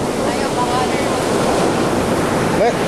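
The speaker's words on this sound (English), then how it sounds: "Let some dam water in." Water released into a dam at an RV resort in San Francisco rushes in a loud, continuous broadband roar, close to the microphone and mixed with wind buffeting.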